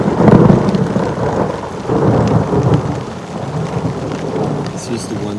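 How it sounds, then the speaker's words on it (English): A massive thunderstorm passes at five in the morning in a remote spot in Mt Barney National Park. Loud rumbling thunder rolls under steady heavy rain, with a few raindrops standing out, and no one speaks. "we just had a massive thunderstorm roll through at 5 o'clock in the morning"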